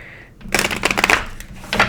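A Light Seers Tarot card deck is shuffled up close, giving rapid riffling, flapping card bursts with brief pauses between them.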